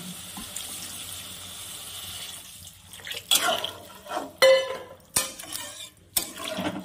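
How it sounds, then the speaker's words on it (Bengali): Water poured into a pan of curry with potatoes and pumpkin shoots, a run of splashing bursts and clinks of utensils against the pan, fairly close and with no voices. "এবার আমি এখানে জল দিয়ে দেব।"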